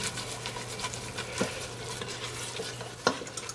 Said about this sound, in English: deglaze the pan with about 1/2 cup of vermouth, just to get all the good bits up off the bottom